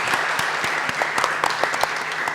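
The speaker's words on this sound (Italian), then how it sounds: "Facciamo un applauso a" Audience applause at a Rotary Club event in Venice, a steady wash of many hands clapping in a hall, even and sustained with no voices standing out.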